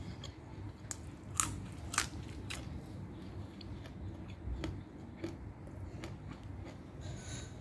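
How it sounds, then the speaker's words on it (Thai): Crisp lettuce eaten alongside stir-fried chicken noodles, close crunchy bites and snaps popping irregularly over soft chewing, fairly quiet and near. "ผักกาดท่านนี่ก็กรอบนะฮะ"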